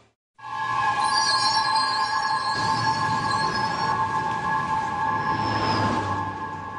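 New York City subway train rumbling steadily underground, a loud continuous drone with tonal hum and faint high wheel squeal that holds for several seconds without speech.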